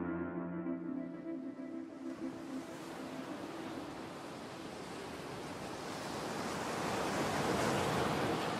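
Ocean waves wash ashore at the seaside in a steady, broad hiss that swells louder toward the end, with no voices present.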